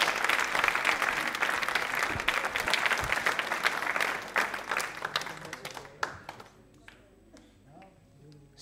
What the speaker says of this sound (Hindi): वंदना जी, आपके लिए तालियां बजवाता हूं, जोरों से बजाइए आपको।